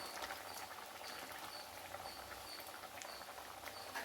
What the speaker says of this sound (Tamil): கொஞ்சம் கொதிக்க விட்டுடலாம்